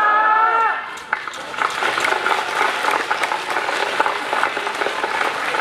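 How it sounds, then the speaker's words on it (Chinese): Warm, sustained applause fills a Catholic church in Dili at Father Kim's homecoming first Mass. A voice at the start fades into dense, even clapping from a large congregation. "再次热烈掌声啊！"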